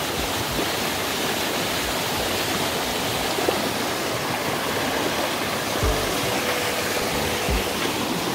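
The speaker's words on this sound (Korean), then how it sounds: "여기가 제대로 된 높이의 폭포인 것 같습니다" Yukdam Falls, a tall cascade in a Seoraksan valley, pours into a deep pool. Its broad, steady rush of falling water runs unbroken for the whole stretch, close and fairly loud, with no voices.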